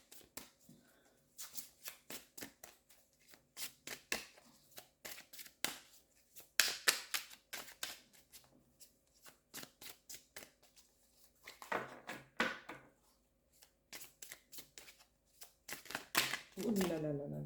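Tarot cards shuffled by hand during a Gemini reading, with fast repeated riffling flicks and a card being drawn, close and crisp, while someone speaks at times between the bursts.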